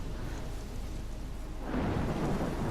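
A thunderstorm rages in the video game Life is Strange, with steady rain hiss swelling into a louder rumble partway through, heard alone without talk.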